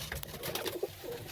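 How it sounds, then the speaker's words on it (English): James Turner roller pigeons coo softly in a backyard loft, low murmuring calls overlapping at a faint, close distance with no talk. "These are my birds. These are my rollers."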